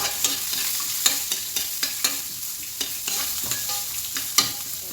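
Garlic fries in a hot pan with a steady, loud sizzle broken by sharp scraping stirs at an uneven rhythm, close up and with no talking.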